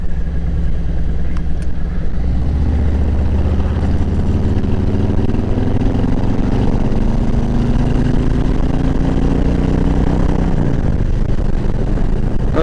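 Engine of a 2018 Harley-Davidson Ultra Classic motorcycle while riding: a loud, steady low drone throughout, its pitch climbing gradually as the bike accelerates, then settling.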